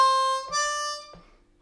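A harmonica plays a short riff on the five chord as a couple of bright, reedy sustained notes, each set off by a soft breathy attack, fading out after about a second with no voice.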